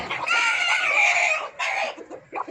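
A brooding hen sitting on eggs gives loud, close, harsh drawn-out clucks and squawks in several bursts, with short pauses between them.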